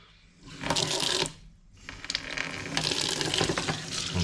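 Water runs from a tap and splashes as it rinses off a freshly cleaned abalone, coming in irregular bursts with a short gap partway through.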